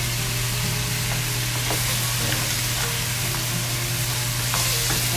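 Crab added to a pan of ginataang gulay and stirred, a loud continuous sizzle with a low hum beneath and repeated scraping stirs, close up, no talking.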